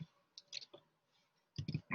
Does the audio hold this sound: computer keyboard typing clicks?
yes